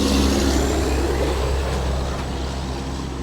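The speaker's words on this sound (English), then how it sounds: "But all the trucks get by" Trucks pass on a bridge beside an old covered bridge in Alabama, a loud, broad rumbling roar close by that slowly eases, with no talking.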